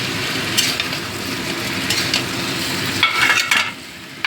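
Tomatoes and onions fry and sizzle in a pan for a fish curry, steady close hiss with scraping stirs that rise in bursts, no talk.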